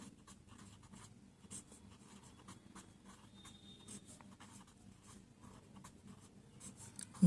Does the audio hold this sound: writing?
yes